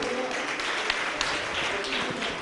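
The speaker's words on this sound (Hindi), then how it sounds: "जोरदार ताली के साथ अनुमोदन।" Audience applause at a religious question-and-answer gathering with a Jain monk, steady broadband clapping throughout, fairly loud with a few sharper claps standing out.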